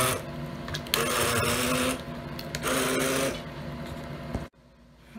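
A kitchen blender purees homemade dog food with whole celery stalks, its motor a loud, steady buzzing whir that surges and eases in pulses for over four seconds before cutting off abruptly.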